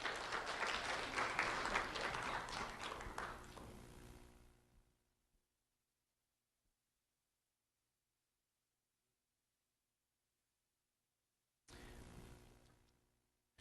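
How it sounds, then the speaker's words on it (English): Applause for two honored students, a loud burst of clapping for about four seconds that fades into silence, then a second shorter round of clapping returns near the end. "Round of applause for William Kajesti and Kendrick Aganor."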